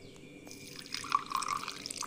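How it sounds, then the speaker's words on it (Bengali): Water poured into poppy seed paste in a mixer jar, a short light trickle with a few drips after a quiet start, close and faint. "এখানে আমরা কিছুটা জল দিচ্ছি।"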